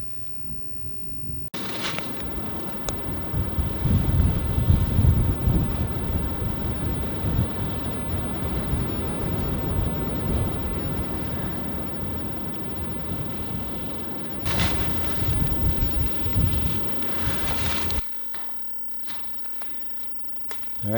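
Steady wind gusts roar and buffet across the microphone at a campsite at Kepler Overlook, with a broad rushing noise that swells and fades for about twenty seconds before dropping off near the end.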